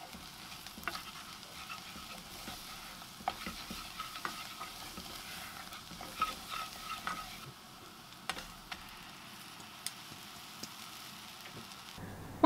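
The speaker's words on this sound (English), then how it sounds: "just make sure you keep stirring them, make sure they're not going to burn" Lentils are stirred in a pot with spices while a soft, constant frying crackle continues underneath. Occasional light scrapes and ticks of the spoon sound close and quiet, with no voices.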